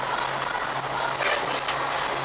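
A steady rumbling roar of a Singapore MRT metro train running along rails, with a constant low hum and no distinct clatter or voices.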